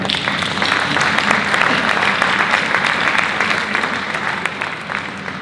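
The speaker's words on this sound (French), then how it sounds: "Vous pouvez l'applaudir d'ailleurs." Dense, sustained applause from a crowd at a New Year's wishes ceremony, a thick wash of many hands clapping at once, loud and even before gradually thinning toward the end.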